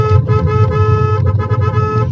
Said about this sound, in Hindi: तो ये आपके हॉर्न की आवाज़ है